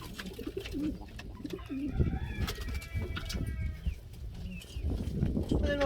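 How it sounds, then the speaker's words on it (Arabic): Pakistani pigeons cooing in a loft on a windy day, low soft coos repeating over steady wind noise and rustling, close by. "مثل ما تشوفون هذا الحمام الباكستاني"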